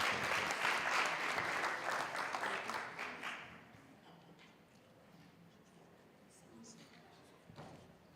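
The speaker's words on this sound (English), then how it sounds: "Let's just give them a round of applause for even coming." An audience at a college policy conference breaks into applause, a dense wash of clapping that fades out after about three seconds, leaving quiet room tone and a few stray claps.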